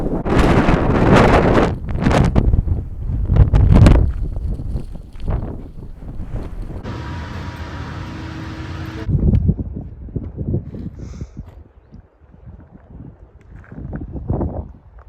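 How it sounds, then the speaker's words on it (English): Strong wind at Kennedy Meadows North on the Pacific Crest Trail buffets the microphone in loud, roaring gusts that rise and fall, with no one speaking. "It's beautiful, but it is so windy. It is crazy windy."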